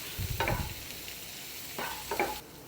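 Masala sweet corn tossed with chili powder, salt and lemon juice is stirred in a pot, producing short scraping, swishing bursts separated by a quieter pause, close and fairly soft.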